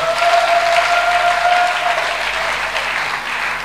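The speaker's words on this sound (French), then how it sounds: "Et puis nous acclamons, ça vaut la peine." Church congregation applauding during a sermon, dense loud clapping from many hands that holds steady for a few seconds then eases slightly.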